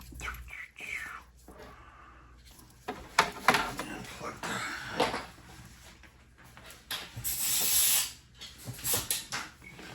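An airbrush spraying a full cup of cleaner through, producing breathy bursts of hiss that swell and fade, with a longer loud spray near the end and faint movement in between.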